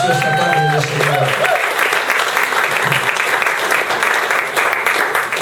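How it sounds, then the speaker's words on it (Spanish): A church congregation claps loudly and continuously during an afternoon service, dense applause filling the room, with a voice speaking briefly at the start. "Demos un fuerte aplauso a Cristo que esta preciosa tarde del Señor"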